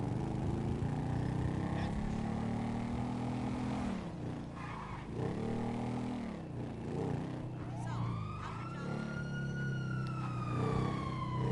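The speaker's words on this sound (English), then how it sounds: "I heard that siren, and at first I thought I'd gotten a warning level." Emergency vehicle siren in GTA V, wailing tones sweeping up and down over several seconds amid game traffic noise, with a rising yelp near the end, fairly faint under the mix.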